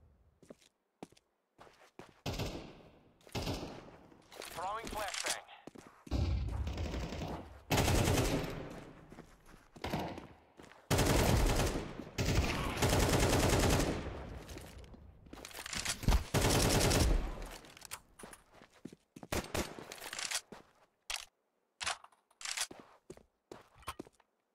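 Rapid bursts of automatic gunfire from a player's weapon in the shooter game Counter-Strike 2, loud and close, come in repeated sprays and short volleys separated by brief pauses and a few footsteps.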